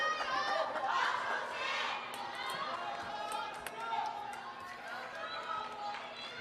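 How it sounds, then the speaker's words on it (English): Crowd noise at a table tennis men's singles quarterfinal, a continuous dense murmur of chatter and excitement from a large audience with faint ball pings, steady and fairly loud throughout. "Crowd is in absolute turmoil here."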